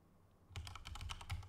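Quick clicking keystrokes on a computer keyboard, about eight close, crisp taps in an uneven burst after a brief quiet start, with no voices over them.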